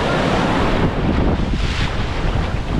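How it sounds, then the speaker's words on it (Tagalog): Heavy surf pounds and rushes around a service boat at sea during Typhoon Jenny and monsoon rains, a loud, dense roar of crashing water mixed with strong wind buffeting the microphone. "Yan, lalaki ng alon oh."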